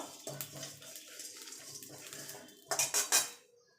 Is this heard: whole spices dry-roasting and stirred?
yes